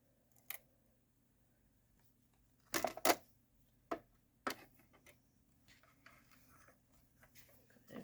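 Scissors snipping out paper flower centers for a handmade card, a few sharp separate cuts with a quick burst in the middle, quiet and close in a still room.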